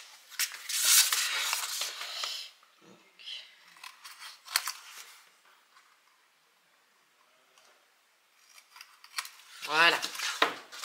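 Scissors snipping the corners of thick paper for a handmade album frame, a few short crisp cuts separated by quiet pauses, close and fairly faint.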